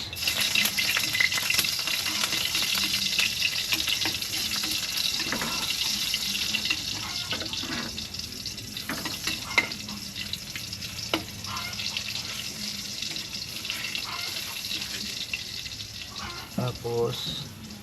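Garlic frying in oil gives a steady, close sizzle lasting throughout, with occasional stirring scrapes and clinks on top.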